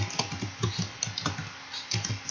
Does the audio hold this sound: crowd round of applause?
no